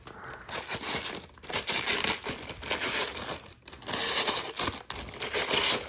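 Protective plastic film peeled off a clear Kyosho Toyota AE86 RC drift car body: close, loud crinkling and crackling with tearing bursts and brief pauses between pulls.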